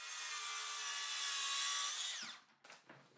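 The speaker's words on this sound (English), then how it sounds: "I'm using the plunge saw for all of the straight cuts" A plunge saw screams at high pitch through a garage floor tile for about two seconds, then winds down, followed by brief clatter and handling noise.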